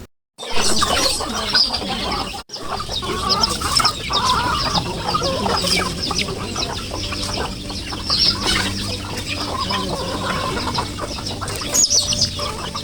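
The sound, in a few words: chickens clucking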